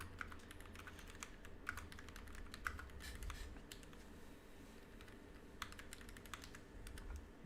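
Fairly quiet, steady typing on a computer keyboard, a continuous patter of key clicks over low background hum with no voices.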